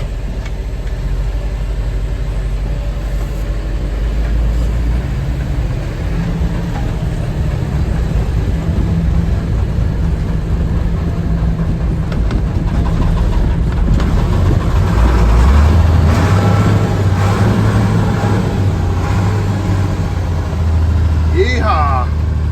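An old scrap-hauling truck's engine rumbles low and steady from close by, then its pitch climbs midway through as it is revved, with a continuous drone throughout and faint background noise.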